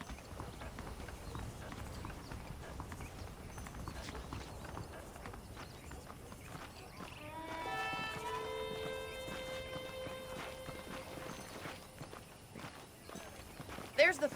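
Saddled horses walk with steady clip-clopping hooves in the Western game Red Dead Redemption, a soft continuous rhythm heard under a voice.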